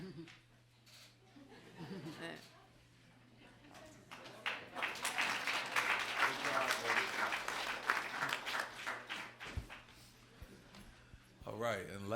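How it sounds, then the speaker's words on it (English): Audience applause at a city council meeting, building from scattered claps into a steady round mixed with some laughter, with talk before and after it in a large room. "let's give him a round of applause"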